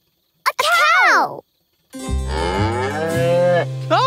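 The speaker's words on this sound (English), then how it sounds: "A cow!" A cartoon cow gives two long, loud moos, the first swooping up and falling, the second lower and steadier with a short rising call at the end, close and clear with no talk.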